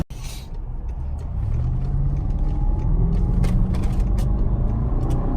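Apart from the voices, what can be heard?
2005 BMW 645ci 4.4L V8 accelerating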